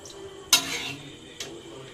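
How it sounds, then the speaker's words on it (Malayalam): Cream being stirred through chicken pasta in a pan: two brief scraping clinks of a utensil against the pan, with a soft sizzle underneath. "ഇനി നമുക്കിതൊന്ന് നന്നായി മിക്സ് ചെയ്ത് ആ പാസ്തയുടെ അടുത്തേക്ക് ക്രീം"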